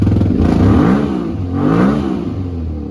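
Suzuki SV650 motorcycle engine loud and close after its first startup following repair work, revving up twice in rising, throaty surges over a steady idle rumble.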